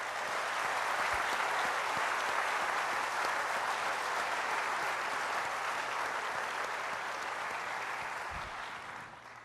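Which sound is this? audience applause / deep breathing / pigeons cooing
audience applause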